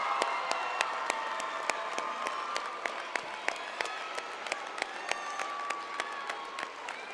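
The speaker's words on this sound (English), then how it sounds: "Now let's have one more huge round of applause for these awesome" An audience at the Mr. Parkland 2010 pageant applauds the male contestants with steady, dense clapping and a few cheers, a constant crowd roar with sharp individual claps standing out throughout.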